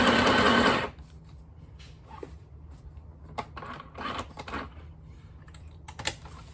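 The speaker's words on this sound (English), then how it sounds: "fold it in half and just sew it up at the middle" A sewing machine stitches cloth for a homemade camping fly, a dense, loud mechanical whirr in one short burst at the start that cuts off, leaving quiet room noise with faint handling clicks.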